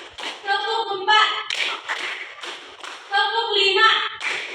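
Schoolchildren in a classroom clap together in short counted bursts, sharp group claps alternating with the teacher's counting voice.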